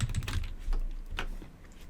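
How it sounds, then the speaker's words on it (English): Typing on a computer keyboard, a quick irregular run of close, light key clicks with no talking. "So we're going to start typing next step in the process."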